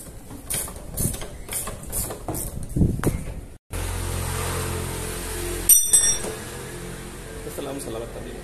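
Ratchet wrench working on a washing machine pulley during a transmission repair, a run of quick metallic clicks and light ringing mechanical taps up close, with a few louder clanks later.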